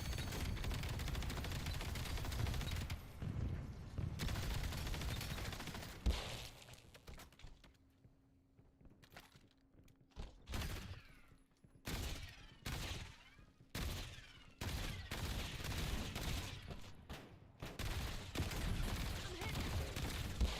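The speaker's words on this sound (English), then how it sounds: "my bullets are ricocheting out the floor and hitting them" Bursts of video game gunfire with rapid volleys and sharp cracks of ricocheting bullets, loud and dense, broken by short quieter gaps.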